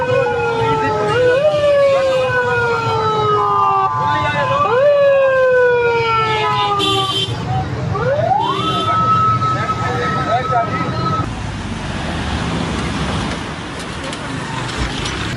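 Several emergency vehicles, ambulances and fire brigade trucks, pass one after another with loud wailing sirens sweeping up and down, overlapping over steady city traffic noise before fading out near the end.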